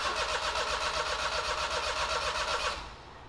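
A car engine cranks and runs after second-hand injectors are fitted, giving a steady, loud, rough mechanical drone for nearly three seconds before it abruptly drops off to a lower, quieter sound.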